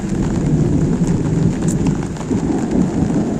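First monsoon rain falling steadily on a village in Devgad, a dense, continuous roar of heavy rain close by with no voices.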